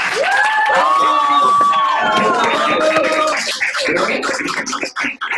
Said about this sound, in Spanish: Podemos abrir todos los micrófonos y darle un aplauso a la distancia a Luz.